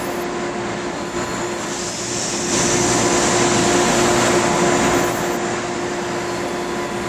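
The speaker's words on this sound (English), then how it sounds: "the bogey sounds of this train when it's in motion they don't sound real" Steady rolling rumble of passenger train wheels and bogies in a train simulator game, an Acela Express, with a constant hum, swelling slightly louder midway, no voices.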